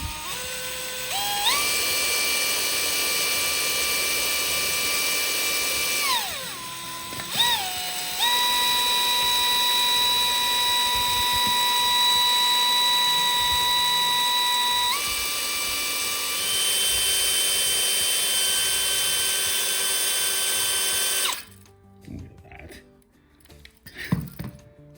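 A drill-driven hone works inside a Honda XL600R motorcycle frame tube, giving a steady high whine that shifts pitch a few times over about twenty seconds, then stops, leaving quiet handling noises.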